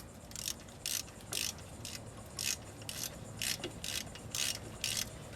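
A ratchet tightens brake caliper bolts on a 1995 Buick LeSabre, giving about eleven short, crisp bursts of clicking in a steady rhythm, close up and fairly quiet against a low background hum.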